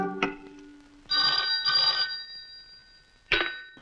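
A telephone rings in an old Bollywood film scene, two loud electric bell bursts near the start and middle, then a sharp click or jolt near the end, with no talking.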